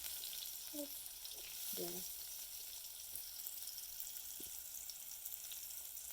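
Chopped onions sizzle and crackle as they fry in a pot for leek and potato soup, a steady quiet frying with a few stirring scrapes and a brief voice.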